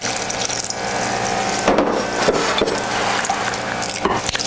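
Red wine glugs and splashes as it is poured into a measuring cup holding water, a steady close liquid pour with a few brief clinks partway through.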